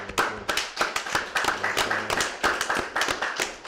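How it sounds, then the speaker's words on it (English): Steady rhythmic clapping by a church congregation, sharp hand claps in a quick even beat with no talking. "Clap it up for the Lord's Passover"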